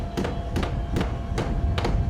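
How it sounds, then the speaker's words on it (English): Hammers bang in a classroom workshop, a handful of separate, sharp knocks spaced roughly every half second over a busy background, close and moderately loud. "Banging of hammers."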